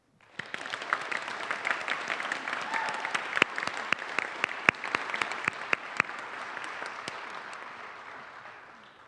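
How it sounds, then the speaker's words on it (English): Applause at a town meeting welcoming a new town manager, a dense wash of clapping from the room with sharp individual claps standing out, holding steady for several seconds before tapering off near the end. "I'd like to start by asking for a round of applause for our new town manager, Jane Wellman."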